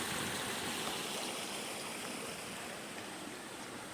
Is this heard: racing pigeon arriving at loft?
no